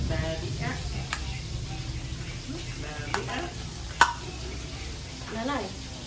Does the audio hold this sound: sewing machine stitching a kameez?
no